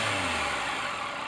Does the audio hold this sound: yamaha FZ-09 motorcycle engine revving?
yes